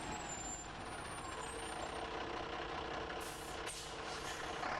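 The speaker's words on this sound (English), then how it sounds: "Reversing into a loading bay, you need to get a bow on the vehicle before you start to push backwards." An HGV goods vehicle reverses into a loading bay, its engine holding a steady, close rumble throughout, with a brief hiss like an air brake release near the end.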